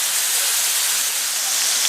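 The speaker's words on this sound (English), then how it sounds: "now we're just going to let them sizzle for a little while longer until they get nice and crispy" Pork cevapcici wrapped in caul fat, with bacon and garlic, sizzling in a Dutch oven lid: a steady, close, bright frying hiss with no talk.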